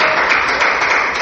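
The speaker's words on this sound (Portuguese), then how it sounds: "Pode louvar ao Senhor Jesus com as palmas." A church congregation claps in praise, a dense, loud, continuous wash of many hands with no gaps across the short stretch.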